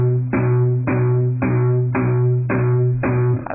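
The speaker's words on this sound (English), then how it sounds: "then just find a happy medium where it sounds like this." Palm-muted electric guitar strings chug in short, even strikes, six damped plucks in a steady rhythm, loud and close with no talking.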